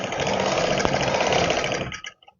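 An electric sewing machine stitches the elastic waistband of ladies' trousers in a fast, even, continuous whir that runs close up for about two seconds, then stops with a couple of brief trailing taps.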